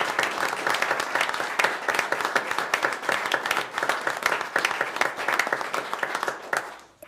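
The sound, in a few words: applause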